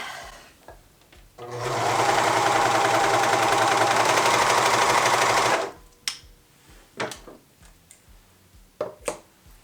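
A serger sews a seam on a cardigan made from an upcycled afghan in one loud, fast, buzzing burst lasting about four seconds, followed by scattered clicks and handling sounds.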